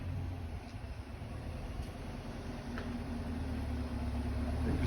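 A stock Chevrolet Camaro ZL1 runs on a dyno, its engine giving a steady, loud low drone that holds level and builds slightly toward the end, with no speech over it.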